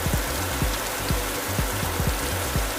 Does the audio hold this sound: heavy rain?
yes